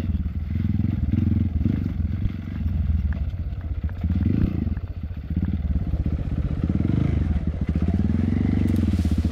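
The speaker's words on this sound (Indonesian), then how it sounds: "Ini ada yang main motor di sini guys." Motorcycle engine on an off-road trail in West Bandung, loud and close throughout, revving and rising in pitch several times with clattering and scraping from the rough ground, no voices.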